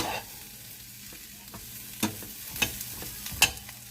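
Potatoes and onion frying in a pan over medium-low heat give a steady sizzle, with a few sharp scrapes and clinks of stirring near the end. No one speaks.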